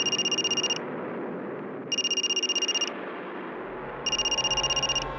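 A telephone rings indoors in three bursts of rapid electronic trilling separated by pauses, over a faint room background.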